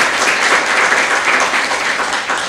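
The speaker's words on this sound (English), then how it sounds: "Can we give those panelists a round of applause?" Town hall audience members at an event on diversifying the teacher workforce give panelists a round of applause: thick, continuous clapping, loud and close, holding steady throughout and easing slightly at the end.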